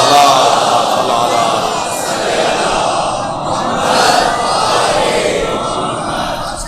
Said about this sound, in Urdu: صلوات پڑھیں ذرا محمد و آل محمد.